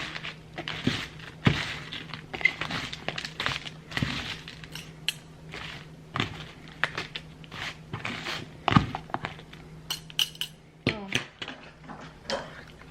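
Utensils toss a spring salad in a bowl, giving scattered soft clinks, scrapes and thuds in an irregular rhythm, close and fairly quiet, with no talking.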